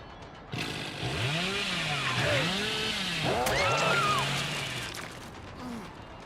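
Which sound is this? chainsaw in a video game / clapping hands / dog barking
chainsaw in a video game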